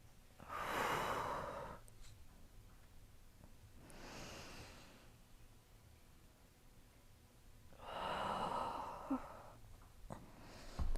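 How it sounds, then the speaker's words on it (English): Slow, deep breaths during a beginner yoga flow, two long audible inhale-exhale cycles heard close and soft in an otherwise quiet room. "Last 2 breaths here."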